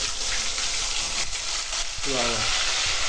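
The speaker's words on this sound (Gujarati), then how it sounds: "અત્યારે સાંજના શાકનો વઘાર માંડી દીધો છે" Vegetable curry tempering sizzles hard in hot oil, a loud, steady frying crackle that fills the scene, with a brief voice murmuring underneath near the end.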